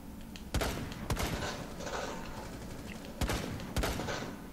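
Gunfire in the tactical shooter Rainbow Six Siege: four sharp shots in two close pairs, about half a second apart, then a gap before the second pair, over steady background noise.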